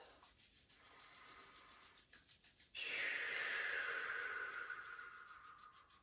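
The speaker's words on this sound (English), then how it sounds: "Let's begin by rubbing our hands together" Two hands rubbing together at the start of a calm morning yoga session: a couple of soft brief strokes, then a louder sustained close rubbing that fades slowly, with no talk.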